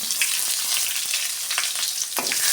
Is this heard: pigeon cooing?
no